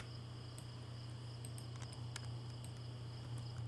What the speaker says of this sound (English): Just the crickets and under the night sky.